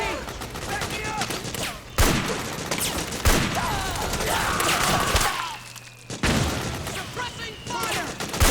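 Bursts of suppressing gunfire rattle through a Metal Gear Solid 4 battle, loud repeated volleys with sharp cracks and brief pauses, mixed with shouting voices and combat noise.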